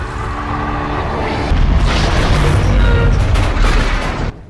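Heavy explosions during a war-film depiction of the Pearl Harbor attack, a loud continuous rumbling barrage of booms that swells midway and then cuts off sharply.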